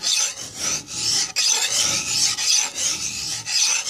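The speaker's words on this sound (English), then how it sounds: "the file is taking down the metal" A hand file scrapes back and forth over the metal of a chainsaw, roughly six rasping strokes in quick, even rhythm, close and bright, with no voices.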